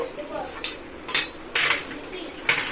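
Comb fish being rubbed and scrubbed clean during washing, giving short, faint scraping strokes that repeat roughly every half second, close by, with a soft background hiss.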